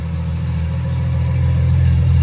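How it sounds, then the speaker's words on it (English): A Porsche Boxster S engine runs steadily through its exhaust, a loud, close, deep burbling drone with no change in pitch or level throughout. "Woo, listen to that exhaust. That sounds so nice."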